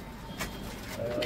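Racing Kapus pigeons in the G.K Loft at Uruli Kanchan give a faint, low cooing murmur. The sound is brief and soft, set against loft ambience.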